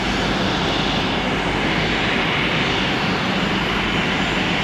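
A SkyWest-liveried airliner taxiing at Columbus airport, a steady loud roar of aircraft engines, constant and unbroken, heard from fairly close with no talking.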